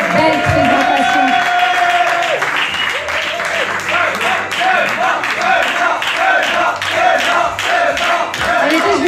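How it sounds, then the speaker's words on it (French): A casino audience applauds loudly at an anniversary celebration, sustained crowd clapping and cheering filling the room while a voice over a microphone speaks on top of it. "On peut l'applaudir très fort."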